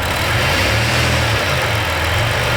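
A Dodge Caravan minivan engine held in drive against the brakes, revving loud and steady with a deep rumbling drone close by, no voices over it.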